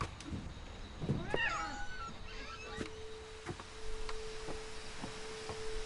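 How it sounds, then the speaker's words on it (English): A kitten meows in the video game Edith Finch, a brief high, wavering cry heard faintly near the start over a quiet ambient background with soft clicks. "Did y'all hear a kitty?"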